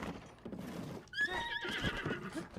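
A horse in a video game lets out a single loud, wavering whinny over a bed of hoof clip-clops and rustling game ambience.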